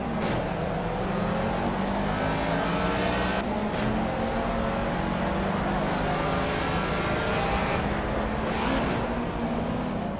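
A Ford Escort Mark 1 race car in Project CARS idles and hums with a steady engine drone at the Catalunya circuit pit lane, with rising rev swells and a couple of brief dips, loud and continuous.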